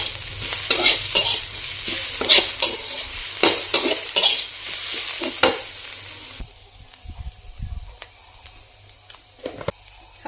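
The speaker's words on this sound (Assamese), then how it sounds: "জিৰা powder red chilli powder meat মছলা ধনিয়া পাউডাৰ দি এতিয়া ধুনীয়াকৈ ভাজি ল'ম" Cumin, red chili, meat masala and coriander powders stir-fried in a pan for a bamboo shoot curry, with steady sizzling and repeated scraping stirs for about six seconds, then a quieter, fainter sizzle with occasional light knocks.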